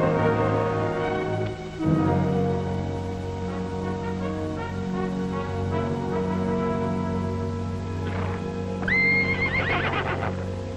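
A horse neighs loudly in a long, rising whinny in an old Western film scene, with hoof clatter and a steady low rumble underneath.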